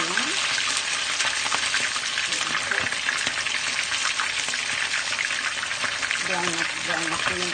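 Battered prawns and squid fry in hot oil with a steady, dense crackling sizzle, close and continuous, while a voice speaks intermittently over the cooking.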